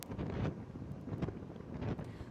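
Strong winds of Cyclone Ditwah sweep the Tamil Nadu and Puducherry coast amid heavy rain, gusting in rough surges that buffet the microphone with low rumbling bursts.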